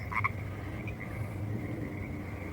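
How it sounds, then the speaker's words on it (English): Frogs croak steadily at dusk near ice caves in the woods, a dense chorus of low, rapid calls, with a brighter croak up close at the start and a continuous trill running underneath. "Chatty freaking Cathy's, these frogs are."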